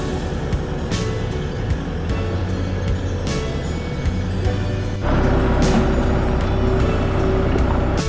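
A farm tractor towing a trailer through wet, muddy ground, with a steady low engine rumble and rattling, clanking bumps throughout, growing louder and heavier partway through.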